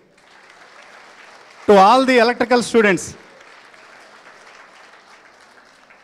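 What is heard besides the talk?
loud applause for a student receiving a memento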